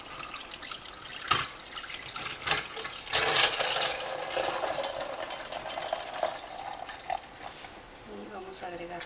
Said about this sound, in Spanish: Ahora, aquí vamos a agregar ya nuestra agua de tamarindo.